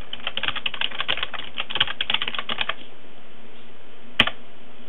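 Rapid clicking keystrokes on a computer keyboard while entering a root password, a dense close run of taps lasting a few seconds, then silence and one final sharp key press.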